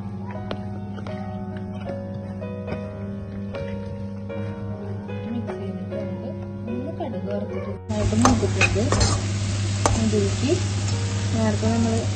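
Stirring a stir-fry of chopped vegetable with grated coconut, green chillies and curry leaves in a pan, scraping and clinking strokes over a steady hum, turning into louder sizzling partway through.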